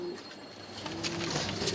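Black racer pigeons on a farm coo softly and steadily in a brief, fairly quiet stretch with no talking.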